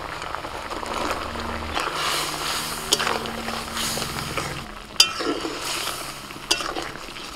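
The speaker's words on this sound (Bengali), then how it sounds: "মশলাটা ফুটছে, ভাজা ক্যাংড়াগুলো দিয়ে দিচ্ছি।" Fried crabs go into a pot of bubbling spice masala, with a soft simmer beneath scattered metallic clinks and scrapes of a spoon against the pan, a few sharper knocks standing out.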